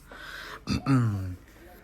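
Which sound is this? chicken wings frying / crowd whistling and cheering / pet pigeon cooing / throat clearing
throat clearing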